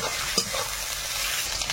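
Garlic, crushed ginger and green chili fry in hot oil, a close, dense sizzle with a quick spatula scrape at the start.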